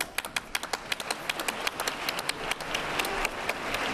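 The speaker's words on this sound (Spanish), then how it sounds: "¡Un aplauso!" Audience clapping at a Spanish carnival-style cuarteto stage performance, sharp distinct claps in a fairly quick, slightly uneven rhythm that gradually thickens into fuller applause over four seconds.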